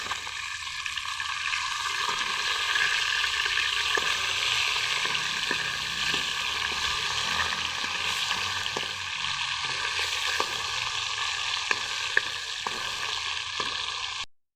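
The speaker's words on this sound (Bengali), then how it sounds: "গরম হয়ে গেছে আমার এবার মাছগুলো ভেজে নেবো" Fish frying in hot oil in a wok gives a steady, dense sizzle throughout, with occasional small pops and crackles standing out near the mic and no voices.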